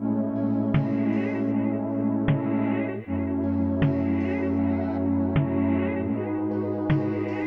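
A reversed, pitched-up vocal chop sample loops in a steady pattern of sustained tonal swells, each cut off by a sharp attack roughly every second and a half, loud and dense with no talking.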